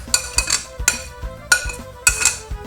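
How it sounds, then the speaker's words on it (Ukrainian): Walnut sauce for satsivi being stirred in a metal pot, a spoon striking the sides in sharp, ringing clanks that repeat in irregular bursts, close and fairly loud with no talk. "ретельно перемішуємо, додаємо часник"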